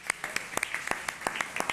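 A small group claps at a school board of trustees meeting, with sparse, distinct hand claps in an uneven rhythm, fairly close and moderately quiet, and no talk over them.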